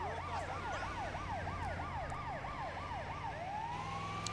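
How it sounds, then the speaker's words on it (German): Ambulance siren in GTA 5, the same siren used for ambulances in GTA San Andreas, wailing in a fast repeating up-and-down sweep over steady traffic rumble, then shifting to a long rising tone near the end. "Die Sirene von dem Krankenwagen ist auch die Sirene, die in GTA San Andreas für den Krankenwagen zum Einsatz kam."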